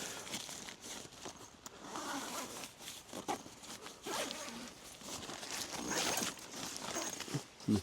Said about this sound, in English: if we zip it back, you can see there's a inner fly